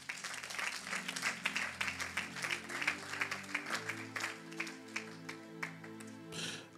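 A church congregation claps steadily and rhythmically in praise, a dense wash of applause over sustained organ-like music that runs throughout, with no speech.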